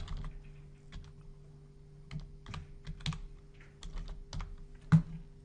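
Someone types a username on a computer keyboard, giving a sparse run of light, irregular key clicks at close range in a quiet room, with one sharper press near the end.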